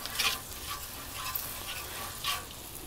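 Olive oil sizzles on a hot Blackstone griddle while being stirred, a soft steady crackle with a few brighter scraping bursts, faint and close with no talking.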